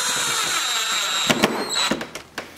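A power drill drives a screw through the rear bumper of a C7 Corvette, with a whirring hum, then a few sharp bursts and squeals as the screw bites near the end.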